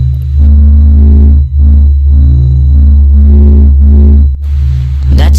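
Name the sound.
space sound representing planet Mercury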